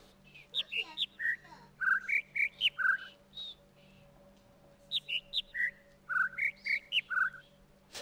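Birds in the puzzle game The Witness sing in bright, clear whistled phrases, repeated runs of rising and falling chirps in two bursts separated by a short gap, over a faint steady ambient hum.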